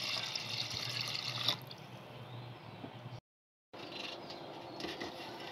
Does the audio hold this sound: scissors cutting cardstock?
no